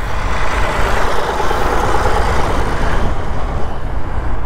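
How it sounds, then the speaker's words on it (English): An old tractor engine running steadily nearby, a loud, continuous diesel-like rumble with no breaks and no talk. "We'll get a look at this old tractor."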